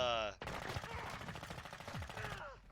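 Gunfire in the Modern Warfare II beta video game: a rapid burst of automatic shots, loud and sharp, following a brief tonal game effect, with the crack-like reports repeating quickly for about two seconds.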